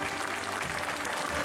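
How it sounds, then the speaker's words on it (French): Applause from the crowd at the Saint Fleuret coronation festival in Estaing, Aveyron, a steady dense patter of many hands that fills the whole moment at a moderate level. "ceux qui participent à ce couronnement peuvent applaudir"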